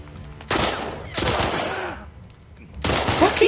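Bursts of gunfire in The Last of Us Part II ring out as loud, dense volleys in three separate bursts, with short gaps between them.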